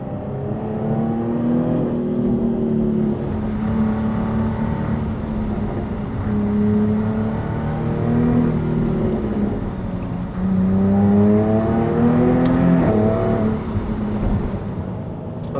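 Jaguar F-Type S V6 engine accelerating on a narrow German road, with steady revving climbing through the gears in repeated rising sweeps, a sustained close-up engine drone throughout.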